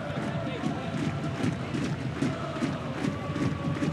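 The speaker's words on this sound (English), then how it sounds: "Crowd making their presence felt early." A soccer stadium crowd at a men's college match between Clemson and Indiana, a steady rumbling roar with cheers rising and falling throughout, under a commentator's talk.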